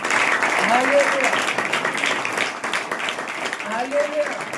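Applause from a congregation at a Saturday church prayer meeting, steady clapping throughout with voices over it and rising calls mixed in.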